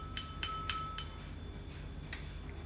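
Glass stirring rod tapping inside glassware while a zinc oxide solution is stirred, giving four quick bright clinks in a row, a short pause, then one more clink, fairly close and quiet with no talking.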